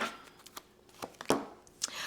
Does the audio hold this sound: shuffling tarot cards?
yes